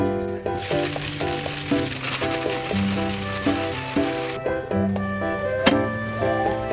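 Sheng jian buns pan-frying in a home kitchen, a continuous loud sizzle with occasional clinks, while a melodic tune plays throughout.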